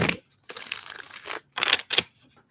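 Tarot cards being shuffled in quick, papery bursts: a short riffle, a longer crinkling run, then two brief sharp flurries, close and fairly loud with no talking.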